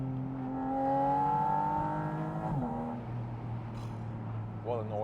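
A Porsche 718 Spyder RS engine winds up through a high, sustained rev before settling, the smooth tone rising and falling nearby in the open-top car, with a brief voice near the end.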